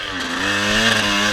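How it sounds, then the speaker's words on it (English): Dirt bike engine during an off-road hare scramble, running loud and close with a steady buzzing drone that sags and wavers as it bogs toward a stall. "End up stalling my bike again here."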